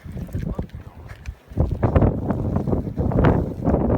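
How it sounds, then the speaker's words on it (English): Gusty wind during a snowstorm buffets the microphone in loud, rough bursts, with voices talking intermittently underneath. "it's so windy, guys. It's so windy."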